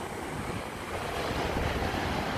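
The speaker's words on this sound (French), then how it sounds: "Là c'est la mer, les vagues." Ocean waves wash steadily onto a shore, a dense, continuous roar of surf with some wind rushing across it and no voices.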